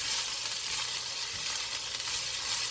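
Kielbasa and cabbage hiss in a pan over medium heat, giving a steady, close sizzle with soft stirring scrapes and no voices.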